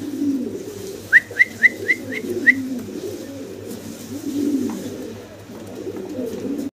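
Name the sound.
fancy pigeons cooing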